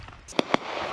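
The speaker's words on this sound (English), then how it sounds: "Taking fire from down this road on my left." Combat gunfire as a military assault company takes fire along a road, heard as two sharp, close cracks in quick succession within a second.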